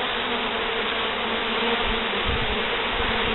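A dense, continuous buzzing of many honeybees at a hive, close and steady, with no pauses or voices.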